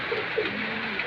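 Racing pigeons cooing softly in a short burst with rain on a wet day, low repeated coos over a steady hiss of background noise.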